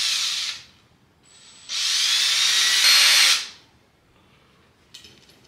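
A power drill cleaning a Bintac S 45 airgun barrel whirs loudly in two bursts, the second longer and rising in pitch before winding down, with a short hiss beforehand.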